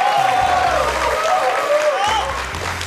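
A studio audience claps on a televised quiz show, a dense, loud burst of applause, while a host's amplified voice carries over it.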